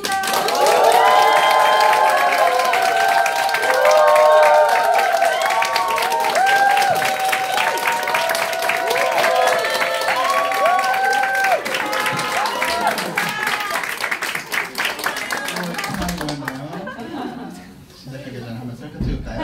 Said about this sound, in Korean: 풀박 사장님 오실 때 큰 박수 부탁드립니다